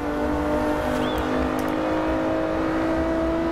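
A car engine in Forza Horizon 2 revs hard with wheel spin, holding a loud, steady high-pitched whine that stays close and constant throughout.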